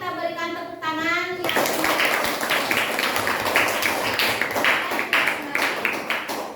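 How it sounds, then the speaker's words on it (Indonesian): Students in a classroom applaud a group presentation; a voice speaks briefly before a burst of clapping rises and continues steadily, fairly close. "Kita berikan tepuk tangan"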